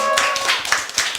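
Audience clapping in a lecture hall during a Korean history lesson, a short burst of several loose claps at close range with no talk over it.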